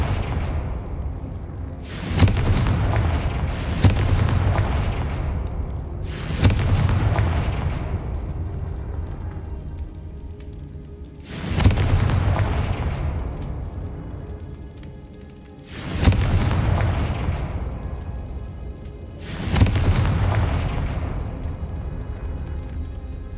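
Repeated Confringo blasting-spell explosions in the video game Hogwarts Legacy: five heavy booming blasts spaced a few seconds apart, each with a sharp attack and a long rumbling decay, loud and close with no talk over them.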